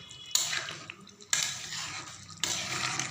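Curry being stirred lightly in a pan on a stove, three separate scraping, sloshing strokes of a spoon against the pan, close and fairly quiet, with no talk.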